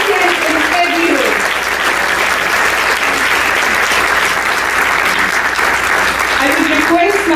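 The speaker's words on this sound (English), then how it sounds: "let's have a big round of applause for the lady with perfect sense in every way" A large audience gives a speaker a sustained round of applause at a college talk event, dense steady clapping filling the whole stretch at high volume with faint crowd noise underneath and no break.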